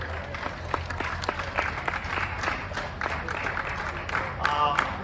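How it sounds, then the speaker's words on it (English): Scattered, moderate applause for Dr. Siba Prasad Raychaudhuri at a gathering with current students, with distinct individual claps and some talking mixed in. "Round of applause for Dr. Siba Prasad Raychaudhuri"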